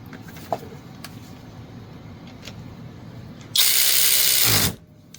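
SeeSii cordless power ratchet wrench running a nut down onto another like a jam nut, a loud close buzzing whir lasting about a second and stopping abruptly, after quiet handling clicks.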